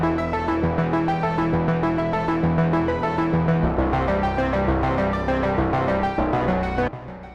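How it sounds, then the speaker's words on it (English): A bright synthetic string patch plays a rapid, evenly pulsing arpeggio of repeating notes, sustained and steady, with no voices. "So this is the Novo string patch that I used and altered for that."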